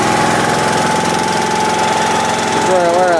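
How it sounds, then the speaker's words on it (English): An air compressor fills a pumpkin-launching air cannon, its loud, steady, rapid mechanical chugging running close and continuously for the whole stretch with a constant whine on top. "This compressor is pretty noisy."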